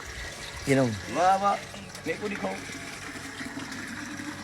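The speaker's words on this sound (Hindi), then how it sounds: "थोड़ा पंप चला के तो दिखाओ" A newly installed household water pump runs while water flows steadily in the background, under loud, excited voices talking nearby.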